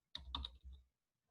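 Typing on a computer keyboard while renaming a document: a short quick burst of key clicks, fairly close and quiet, then silence.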